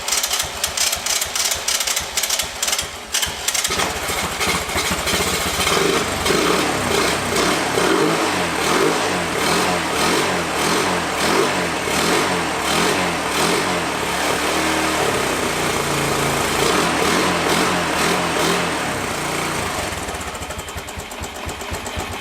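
An old, once-abandoned Honda three-wheeler's engine runs steadily at close range, with a brief lower stretch at the start before a busy, pulsing mechanical drone with rev-like swells continues throughout, no talking over it.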